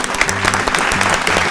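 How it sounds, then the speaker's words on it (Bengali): Loud burst of applause and cheering from the studio audience of a family game show, dense and continuous for its short duration with no talk over it. "জোরে হাততালি।"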